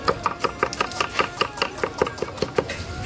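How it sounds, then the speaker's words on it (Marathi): Onions chopped with a knife during meal preparation for a pilgrimage feast, a steady rhythm of about fifteen crisp, close knife strikes on a board, with no speech. "कोणी कांदा चिरत आहे"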